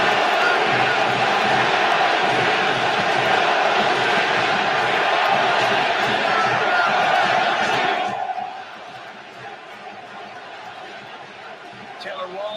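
Loud baseball stadium crowd at the Oakland A's boycott game, a dense roaring wall of cheering and chanting that holds for about eight seconds, then drops to a quieter murmur with commentary over it.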